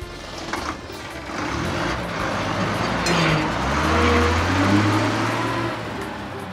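An express truck drives past with a continuous engine roar that swells slightly and shifts upward in pitch midway, steady and fairly close throughout.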